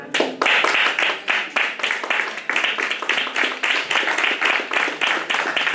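Church congregation at a Sunday celebration service clapping in a steady, rhythmic beat, about two claps per second, moderately close and lively, with a voice faintly present underneath.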